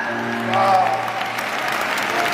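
A church congregation applauds loudly and steadily as a full crowd, with a voice speaking briefly over the clapping at the start.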